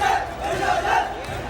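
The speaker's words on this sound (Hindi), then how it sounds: "भीड़ उग्र हो रही है।" An angry protest crowd in Guna, Madhya Pradesh, shouts in a dense, continuous roar of many voices, loud and close, with no single voice standing out.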